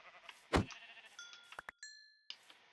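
Sheep bleat in the video game Minecraft, a few short wavering bleats at close range mixed with brief game sound effects, with no talk over them.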